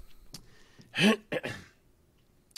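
A short, rough throat clearing close by, one main burst followed by a couple of smaller rasping bursts, in an otherwise quiet room.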